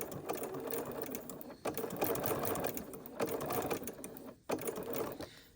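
A sewing machine top-stitches fabric in close, steady runs of rapid mechanical whirring, broken by short pauses between bursts.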